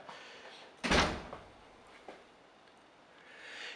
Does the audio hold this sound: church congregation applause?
no